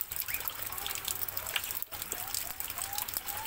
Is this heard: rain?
yes